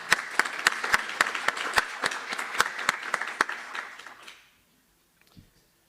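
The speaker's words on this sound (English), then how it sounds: "So we just want to give them a round of applause for putting that work together." A presentation audience applauds in a meeting room with brisk, dense clapping and a few distinct sharp claps. It tapers off after about four seconds into near silence, with a small bump of noise at the end.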